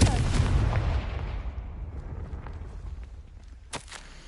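A Confringo blasting spell bursts in the Hogwarts Legacy video game, a loud booming explosion that fades into a long rumbling tail, with a faint later pop.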